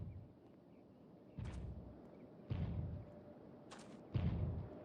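A Rancor stomps around in the video game Kenshi, producing three heavy, bang-like booms spaced over a few seconds, each with a sharp attack and rumbling tail, growing louder over a low rumble.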